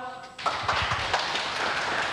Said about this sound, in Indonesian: Buat teman-teman yang ada di belakang tepuk tangan dong.